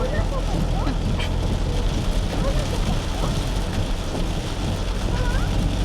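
Heavy monsoon rain pours steadily in Lonavala, a dense, continuous hiss and wash of water with low rumble beneath, while a voice talks over it throughout.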